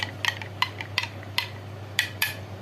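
Starch pudding mixture being stirred in a cooking pot for a layered pastry tray dessert, with a series of light metallic clinks and scrapes of a utensil against the pot at an irregular rhythm, close up and moderately quiet with a steady low hum underneath.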